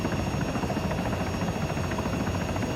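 Helicopter flying in the video game ArmA 3, a continuous loud rotor buzz and engine drone held steady with no voices.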